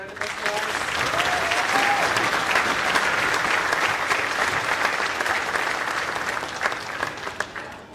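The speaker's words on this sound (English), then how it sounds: "Can you please give them one more round of applause?" A school audience at an elementary spring concert gives a sustained round of applause, dense, steady clapping lasting several seconds before thinning out near the end, with a brief voice at the start.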